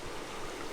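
Water pours steadily through an old mill dam on a river downstream of a large spring, a continuous broadband rush with no breaks across the short span.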